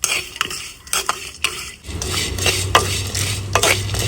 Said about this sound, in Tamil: எல்லாத்தையும் போட்டதுக்கு பிறகு கைவிடாம கிளறி கொண்டே இருப்போம்.